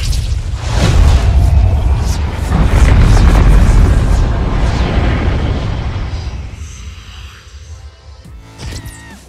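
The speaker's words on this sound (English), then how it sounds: "Drive-by explosion!" A loud, booming explosion in Grand Theft Auto V Online with a long rumbling roar that slowly fades away, leaving faint noise behind.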